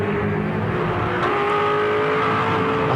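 A V8 Supercar engine roars steadily at Phillip Island circuit in 2007 racing, a loud continuous drone with a sustained high tone, apparently holding revs as it runs through a corner.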